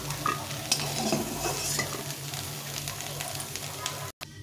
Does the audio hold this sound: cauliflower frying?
yes